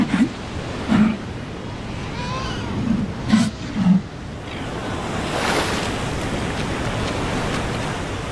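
Surf rolling in and breaking along a South African shoreline where Cape fur seals rest, a steady broad wash with a few low thumps early on, heard up close with wind buffeting the microphone.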